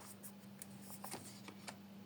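Quiet crisp flutters of cards being shuffled and riffled, several soft bursts over a steady low hum.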